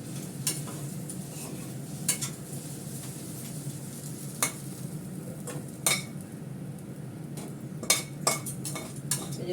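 Egg being stirred in a steel wok, with soy sauce catching on the bottom: a soft steady sizzle carries through, punctuated by occasional sharp clinks of a utensil scraping against the metal.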